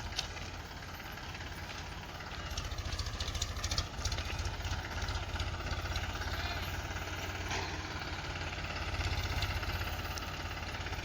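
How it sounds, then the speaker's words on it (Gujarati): A tractor engine idles and chugs steadily at sowing time in a sorghum field, a loud continuous low throb with rattling vibration and no break. "ટ્રેક્ટરને સરખું કરી રહ્યા છે."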